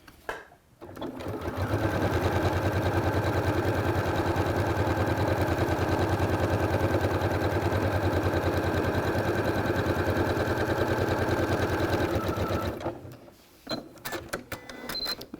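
Sewing machine with a walking foot quilting a straight line across a quilt, a loud steady rapid needle hum running for about ten seconds, with clicks and handling before and after.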